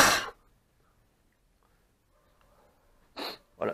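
A person blows hard puffs of air by mouth onto a car part to clear debris, one sharp close burst followed after a silence by two more quick blasts.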